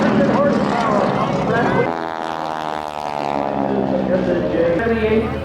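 A World War II North American propeller warplane of about 600 horsepower passes at an air show, its loud droning engine rising and falling in pitch as it flies by, with a public-address announcer talking over it.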